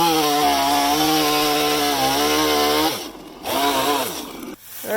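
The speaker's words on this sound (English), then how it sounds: "going to take a chainsaw to it" A chainsaw runs close and loud at steady high revs as it cuts a big chunk of lumber into cribbing, then briefly drops toward idle and revs back up into the cut.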